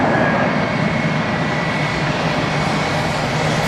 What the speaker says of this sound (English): One of the newest popular aircraft in the world, the A321.